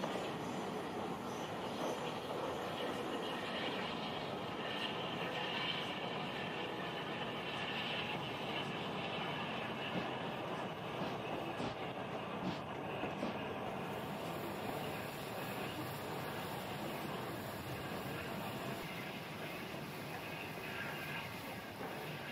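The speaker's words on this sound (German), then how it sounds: "Genießt die schöne Dampflok" The Northern Belle steam train runs along the line in Train Simulator Classic, a continuous rolling rumble with rail clatter and occasional wheel squeal, steady and moderately loud throughout.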